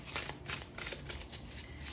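A deck of tarot cards being shuffled by hand, a steady run of close, papery riffling flutters repeating several times without pause.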